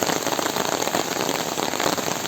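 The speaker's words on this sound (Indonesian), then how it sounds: "suasananya hujan deras di sini ya" Heavy rain pours down in a village in Ciamis, a loud, dense and continuous hiss of drops on surfaces with no break.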